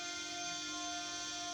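The Ottawa NHL goal horn plays as a steady, sustained horn blast, fairly faint and unbroken throughout, with no voices.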